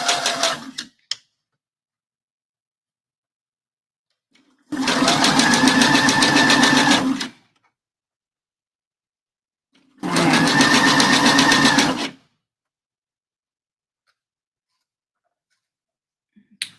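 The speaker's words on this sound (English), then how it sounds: "Okay, along as I'm stitching." A sewing machine stitches layers of bra fabric in two steady runs of about two seconds each, separated by quiet pauses, with a short burst at the start.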